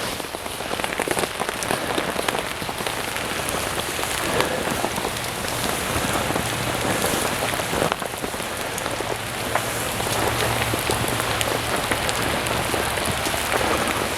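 Heavy rain drums steadily on a tarp dining fly and tent outdoors, a dense, close crackle of drops that stays constant throughout with a faint low rumble underneath and no voices.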